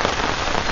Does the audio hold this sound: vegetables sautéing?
no